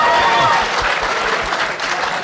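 An audience at a minimum wage debate breaks into loud, dense applause and cheering that carries on steadily for a couple of seconds.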